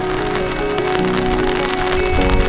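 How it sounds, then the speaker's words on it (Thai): Heavy rain pours steadily on a surface at a temporary overnight stop near a mountain viewpoint in Khon Buri, Thailand, a dense, continuous hiss of drops that holds loud and unbroken with no talking. "ฝนตกหนักเล"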